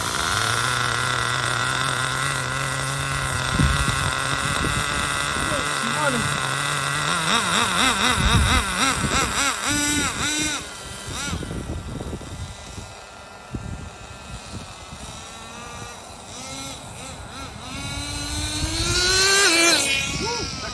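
A supercharged Traxxas Jato 3.3 nitro RC car engine screams loudly, its buzzing pitch sweeping up and down as it revs and runs through second gear for about twenty seconds.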